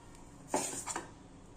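Metal pan set down on a stovetop before making hotel-style onion dosa, a short clattering clank of cookware, close and fairly quiet, with no voices.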